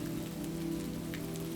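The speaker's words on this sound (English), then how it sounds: "letting the melody of raindrops guide her into deeper layers of tranquility" Gentle rain falls steadily in a Santo Domingo shower, a soft, even patter on surfaces that holds at a constant level throughout, with no voices.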